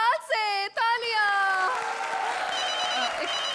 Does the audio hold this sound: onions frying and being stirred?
no